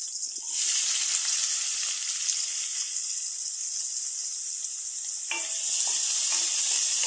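Onions, garlic and green chillies fry in a hot pan, a steady loud sizzle and hiss running throughout with a brief stirring clatter partway through.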